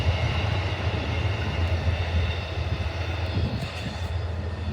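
An Amtrak train rumbles past at a level crossing, a loud continuous low drone of engine and rolling cars holding steady throughout without talk.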